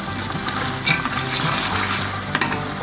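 Mutton masala frying in oil on high heat, a loud continuous sizzle with stirring scrapes of a utensil in the pan, no voices.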